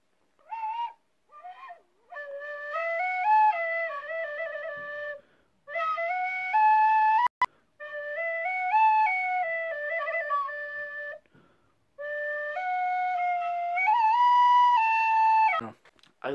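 A tin whistle plays a melody solo, in clear, breathy phrases with short pauses between them and a clack near the middle.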